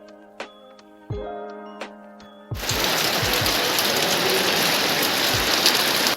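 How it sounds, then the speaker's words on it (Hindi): A few sparse drips and a tonal hum at first, then heavy rain on the Triund trek in India suddenly bursts in as a dense, loud, steady hiss with scattered thuds. "बहुत ज़्यादा बारिश हो रही थी और मौसम बहुत ख़राब था।"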